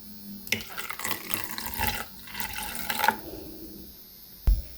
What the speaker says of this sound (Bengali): এখন এর মধ্যে দিয়ে দেব জাল করে রাখা দুধ